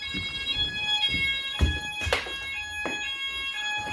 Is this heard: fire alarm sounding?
yes